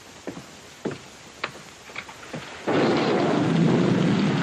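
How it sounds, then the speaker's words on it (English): A few sharp cracks and patters give way to a steady, loud wash of heavy rain, with a rumbling storm quality underneath. "The rain that's falling down,"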